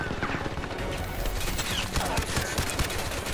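Rapid gunfire in the video game Crysis 3 crackles almost nonstop, dense overlapping shots and bursts filling the scene loudly with mechanical clatter.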